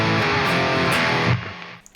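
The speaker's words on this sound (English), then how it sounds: "This plugin does heavy tones extremely well" Heavy distorted electric guitar played through the Antidot amp plug-in rings out as a thick sustained chord for over a second, then cuts off, leaving faint clicks.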